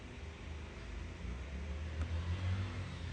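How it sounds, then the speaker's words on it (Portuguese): A motorcycle passes by outside, a muffled engine rumble building and swelling over a few seconds, distant and low against quiet room noise. "Passou uma moto aqui, me pega tudo"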